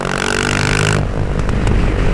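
A BMW R nineT Racer 1200 motorcycle engine hums loud and close in sixth gear near 2500 rpm, then the tone drops away abruptly after about a second into rougher mechanical noise.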